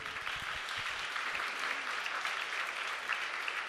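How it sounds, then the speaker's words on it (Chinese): A church congregation at a Sunday service applauds, sustained clapping from many hands filling the room at a steady moderate level for the whole stretch, without any voices over it. "好，我们也再次拍掌，我们也鼓励这些每一个礼拜辛苦的主日学老师。"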